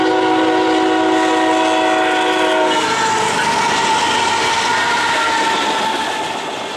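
Freight train with locomotives, including a GE test unit, passing near the test track in Erie, Pennsylvania: a loud sustained multi-tone horn for a few seconds, then a heavy continuous roar of the passing consist.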